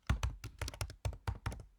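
Quiet, close computer keyboard typing of Swift code: about nine crisp key strikes in an uneven rhythm, with short gaps between clusters.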